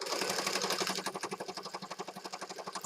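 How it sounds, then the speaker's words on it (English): A sewing machine zigzag stitching with black thread on a card, its needle hammering in a fast even rhythm that steadies into distinct pulses, close and moderately quiet. "I've got it set for a zigzag stitch. And I'm just going to get started here on this corner and just zigzag stitch down"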